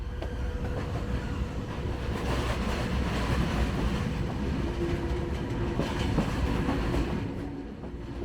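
The Flåm Railway train pulls out of Flåm station toward Myrdal in Norway. A steady rolling rumble of wheels and carriage noise carries throughout, moderately loud with faint rhythmic clatter and no voices.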